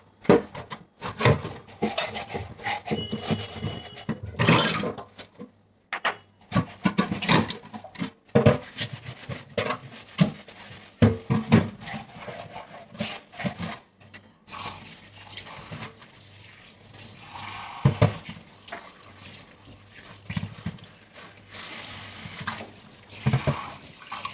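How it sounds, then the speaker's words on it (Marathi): A new stone mortar is washed and scrubbed with coir fibre, giving wet, irregular scraping and rubbing bursts with splashing water and occasional knocks of stone, fairly close, with no talking. "आता याला आपण असं धुवून घेऊया छान स्वच्छ असं घासून"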